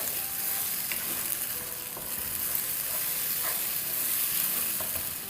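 Chopped medium tomatoes frying with softened onions make a close, steady, hissing sizzle with light stirring scrapes, and no voices.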